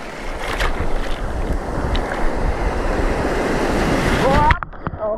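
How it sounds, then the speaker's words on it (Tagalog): Loud, continuous roar of big, rough ocean waves and strong monsoon wind buffeting the microphone, ending with a brief drop and some faint sounds near the end. "Grabe lalaki mga alon mga partner oh."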